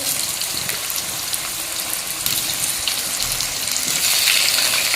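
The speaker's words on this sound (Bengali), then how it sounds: "আর আলুগুলোকেও লাল লাল করে ভেজে নেব।" Potatoes frying in pungent mustard oil give a loud, steady, dense sizzle that hisses on without a break, close up and with no voices over it.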